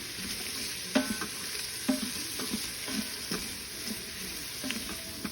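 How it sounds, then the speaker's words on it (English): Vegetables for a turkey pot pie sizzle steadily in a pan while a utensil stirs them, producing soft clacks and scrapes roughly once a second over the continuous frying hiss. "we're going to give it a little fry until the vegetables are just slightly translucent and tender"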